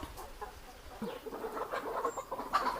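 Several native country chickens cluck and murmur softly at a distance, a low scattered chatter of farmyard fowl with no voices.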